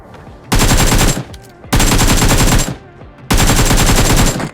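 Automatic rifle fire in PUBG Mobile (BGMI) rings out in three loud, close bursts of rapid shots, each lasting under a second, separated by brief pauses, with no voice.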